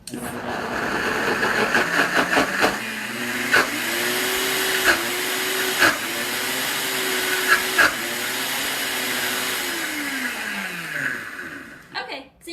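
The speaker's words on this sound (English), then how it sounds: "then you'll turn on your blender" A countertop blender purées cooked beans, with onions added, in a loud sustained whir that rises to speed, labours and dips several times under brief knocks, then winds down near the end.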